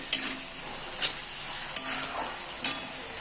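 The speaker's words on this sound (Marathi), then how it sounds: "बघा आपण डाळ घातली त्या मटाची. पहिले चांगलं म्हणजे पलटून घेऊ." Soaked moth bean dal frying in a pan, with a steady sizzle and four sharp scraping stirs spaced about a second apart, close and clear with no talking.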